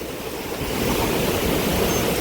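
Water of Nandikadal lagoon rushing beneath a bridge in Sri Lanka, a loud, constant broadband roar of flowing water with some wind, steady throughout and close, with no talk.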